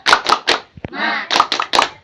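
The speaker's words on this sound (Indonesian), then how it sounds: "Tepuk semangat." A class of children joins in a rhythmic clap chant, sharp grouped claps in quick patterns broken by a short chanted call, close and loud, with a teacher's voice leading between the clapping.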